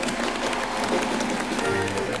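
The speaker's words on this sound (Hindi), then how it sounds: "एक बार शमिताभ की पूरी कास्ट के लिए जोरदार तालियां हो जाए।" Loud, dense applause from a studio audience for the Shamitabh cast on a comedy talk show, a steady wash of clapping with crowd murmur throughout.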